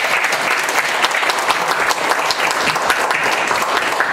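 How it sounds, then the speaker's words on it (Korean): Audience applause at a boxing press conference for a WBA world champion, steady dense clapping filling the room without speech. "박수 한번"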